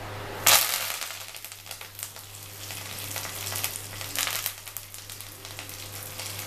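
Curry leaves drop into hot oil with mustard seeds and a torn dried red chilli, a sharp burst of sizzle up close that settles into steady crackling frying.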